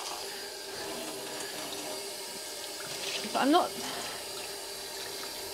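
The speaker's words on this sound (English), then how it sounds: "So let's wash it. That's just cold tap water I've got at the moment." Cold tap water runs steadily while hand-dyed yarn is rinsed in a sink after low-immersion dyeing with blue dyes, a constant close hiss with a brief swell near the middle and a few spoken words.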